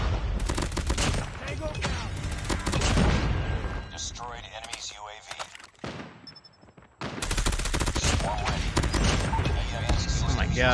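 Rapid M16 rifle fire in Call of Duty comes in loud, dense bursts, drops away briefly mid-clip, then returns hard, with voices talking throughout.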